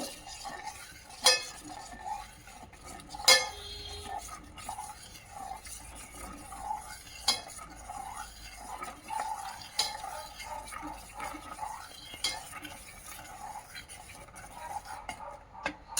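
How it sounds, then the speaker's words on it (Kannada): A custard mixture is stirred in a pot with a spoon, giving soft continuous scraping and light clinks against the metal, with a couple of sharper knocks early on, all fairly quiet and close. "ಇದನ್ನು ಹಾಕಿ ಮಿಶ್ರಣ ಮಾಡಬೇಕು."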